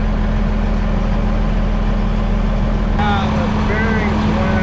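A tractor engine with failed clutch bearings runs at a steady, loud, low drone with a constant hum, and people talk over it in the second half.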